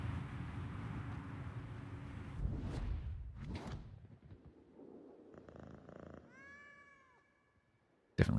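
Cat in a World of Warships game session, with a few short meows and a purring tone among rumbling and scraping sounds, followed by a brief high chirping sweep.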